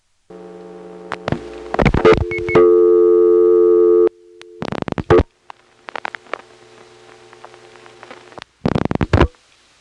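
Telephone line audio from a 1977 step-by-step exchange trunking to a Smyrna, Georgia ESS: steady tones broken by bursts of clicking dial pulses and relay switching, loud and close, with quiet gaps between.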